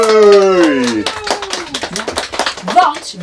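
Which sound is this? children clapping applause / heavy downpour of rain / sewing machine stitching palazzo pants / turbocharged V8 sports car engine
children clapping applause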